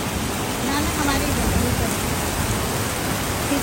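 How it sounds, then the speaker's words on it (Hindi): Heavy monsoon rain pours down in Chamoli district, Uttarakhand, a dense, steady roar of falling water that stays loud and unbroken throughout, with faint voices beneath it. "ऊपर बहुत बारिश हो गई है"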